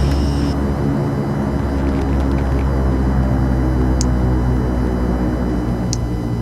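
Jet airliner engines in the X-Plane 11 flight simulator spool into reverse thrust after touchdown, a steady broad roar with a constant low drone, loud and unbroken, with two faint high clicks.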